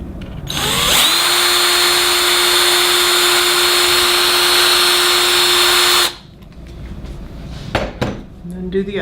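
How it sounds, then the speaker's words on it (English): A power drill bores a hole through the middle of an end cap in one loud, steady run of about five seconds with a constant whine, then stops and leaves a few faint clatters. "And then I'm just going to drill a hole right in the middle."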